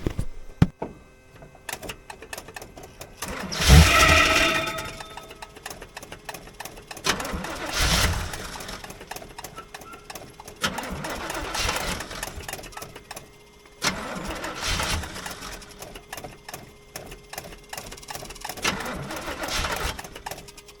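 A 1979 Chevrolet Camaro, unstarted for years, cranks and tries to fire in several separate bursts. Between the attempts the engine chatters and rattles unevenly, close to the microphone.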